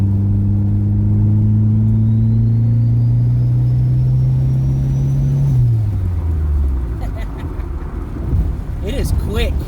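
A rear-wheel-drive Mitsubishi Starion turbo with a K-series engine swap accelerates hard, its engine note climbing steadily and loudly before dropping off as the revs fall, with a rough, noisy cabin rumble around it.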